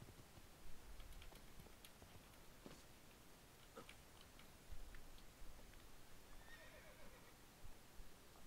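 A horse in the video game Assassin's Creed 2 whinnies faintly amid soft clip-clop hoofbeats and ticking over a steady hiss, with one brief neigh near the end.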